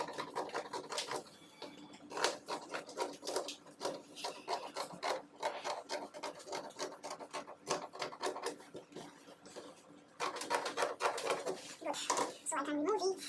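Scissors cut excess fabric from a dress with quick repeated rasping snips and rubbing close by, and someone talks faintly over the cutting.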